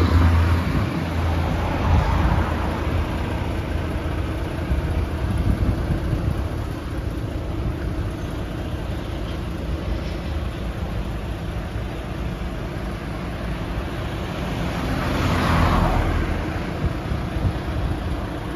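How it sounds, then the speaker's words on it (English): A bus carrying people to the TICAD8 conference in Tunis, Tunisia, in 2022 gives a steady, loud engine rumble and idling drone amid roadway traffic noise, holding constant throughout with a slight swell near the end. "This is the ticket bus that take many people to the conference."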